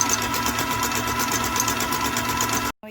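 An electric mixer beats sponge cake batter in a bowl, a loud steady motor whir with a rapid rhythmic chatter of beaters, cutting off abruptly just before the end.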